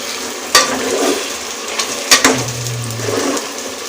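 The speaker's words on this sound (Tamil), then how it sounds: "ஸோ இதை லைட்டாக மிக்ஸ் பண்ணி விட்டுக்கலாம்" Chicken for Hyderabadi biryani is stirred in a pot, giving a steady low sizzle with a few sharp spoon-against-pot clacks and scrapes, close and moderately loud.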